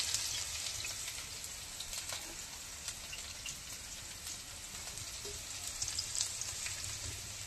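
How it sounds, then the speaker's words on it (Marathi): Onion, chili and garlic fry in hot oil with a soft, continuous sizzle and scattered small pops, close but quiet and with no voices. "आता कांदा टाकून गेला मित्रांनो आपण तेलामध्ये आणि मिरची सुद्धा आणि लसूण सुद्धा टाकलं"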